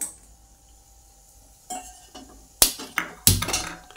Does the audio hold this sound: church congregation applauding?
no